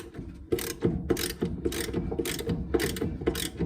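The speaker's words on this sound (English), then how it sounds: "So here's the nut, and I got it backed off." Close, loud ratchet clicking in steady repeated strokes as a nut is backed off during a brake job on a 5-lug conversion, each pull giving a rapid burst of pawl clicks with short pauses between.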